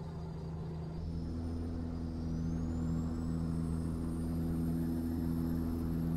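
A Peterbilt truck driven in Euro Truck Simulator 2, its engine giving a steady, loud, low droning rumble that holds constant throughout, with no speech.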